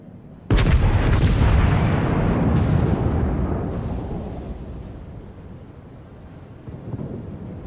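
Heavy naval guns of a warship in a video game fire in one sudden, loud, deep boom that rolls and decays over several seconds, followed by fainter rumbling.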